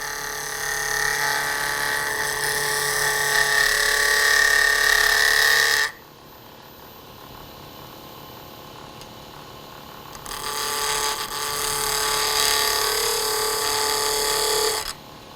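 A spindle detail gouge recuts the wooden jaws of a chuck on a lathe, a steady bright scraping hiss for about six seconds, a quiet pause, then a second sustained cutting pass.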